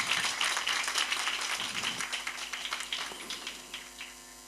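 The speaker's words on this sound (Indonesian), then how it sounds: "Tepuk tangan untuk beliau." Applause from the audience at a 2016 Islamic boarding school graduation ceremony in Jepara: dense, steady clapping from a crowd that thins and fades toward the end, with no talking over it.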